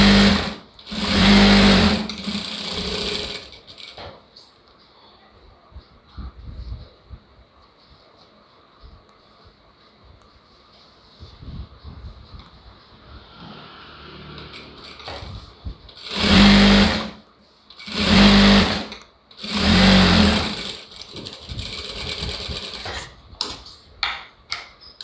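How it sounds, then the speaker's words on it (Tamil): A sewing machine stitches a blouse lining in several short bursts, each a rapid, loud clatter. The bursts are separated by quieter pauses with faint handling noises. "இந்த 1/2 இன்ச்சு கேப்பில் ஒரு தையல் போட்டு எடுத்துக்கலாம்."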